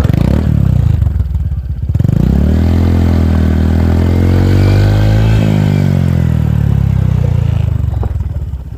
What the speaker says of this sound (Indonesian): begitu kalau kita gas dipedot, dengerin suaranya